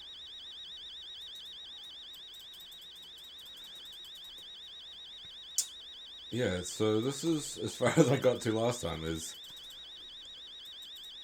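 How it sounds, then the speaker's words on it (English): A fire alarm in the horror game Fears to Fathom rings steadily through the whole stretch, a fast warbling electronic beep that keeps going while someone talks over it partway through. "fire alarm."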